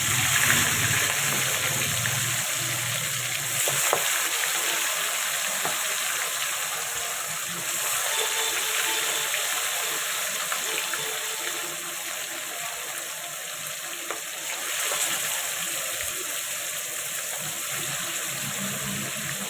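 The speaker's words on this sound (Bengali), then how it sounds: "এবারে মাছটা একটা ভেজে নেব।" Fish rubbed with salt and turmeric fries in hot oil in a kadai, giving a steady, fairly faint hissing sizzle that runs on without a break.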